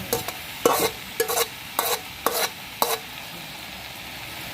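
Rhythmic stir-frying in a wok: five or six sharp scraping strokes at a steady pace over a constant sizzle, close and loud, no voices.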